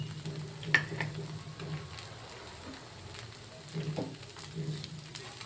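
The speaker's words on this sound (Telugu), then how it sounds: "ఒకసారి ఇలాగా దీన్ని కదిలి పెట్టుకోండి" Onion dosa with onion, green chilli and ginger pieces sizzles on a pan while being stirred, a soft steady frying hiss with a few light scraping knocks.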